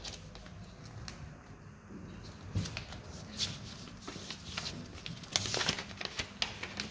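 Paper being folded by hand for an origami trash bin: soft crinkles, creases and light taps come in irregular bursts, close and fairly quiet, with no talk.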